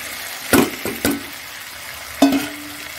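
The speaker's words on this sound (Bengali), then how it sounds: "এবার এই ভাজা পনিরটা দিয়ে দিচ্ছি।" Fried paneer goes into a pan, bringing a few sharp clanks and scrapes of stirring over a soft, low sizzle, with three distinct knocks spread across a few seconds.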